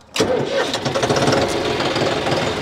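A tractor diesel engine fitted with a modified diesel pump cranks and catches almost at once, then runs on in a steady, loud, close rumble with a rough knocking edge.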